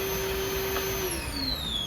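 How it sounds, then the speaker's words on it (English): Milwaukee M18 Fuel battery-powered backpack vacuum running at full speed, giving a steady, loud, unbroken motor whine and airflow rush with no voices. "really, really, really neat vacuum backpack"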